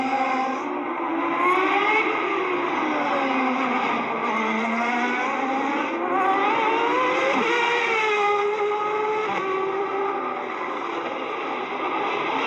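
IndyCar race cars screaming through the final laps of a 1998 CART race, a loud sustained engine whine rising and falling in pitch as cars pass, with no break in the roar.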